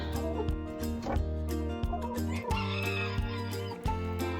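Chickens cluck and call in their pen near a new roosting spot, a busy overlapping chorus of close clucks with a rooster's crow among them, no talk.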